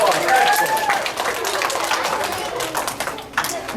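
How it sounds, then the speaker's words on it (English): An audience of children applauds for a child, scattered clapping lasting nearly four seconds with some voices and a brief high whistle-like tone near the start. "Let's give Josie a round of applause."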